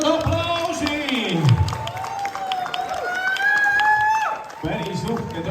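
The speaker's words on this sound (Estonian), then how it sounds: "teeme veel aplausi!" Applause and cheering from a crowd at a New Year's party show, following a dance troupe's performance, with a voice speaking over it and a brief dip before the noise resumes.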